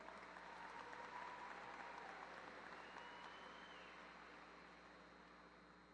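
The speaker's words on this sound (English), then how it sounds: "Big round of applause." Sustained audience applause fills a high school graduation ceremony, a dense wash of many hands clapping that swells early and then slowly tapers off over several seconds.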